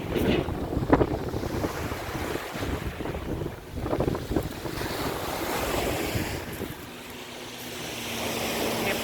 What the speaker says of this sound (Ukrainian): привезу в ухах шум моря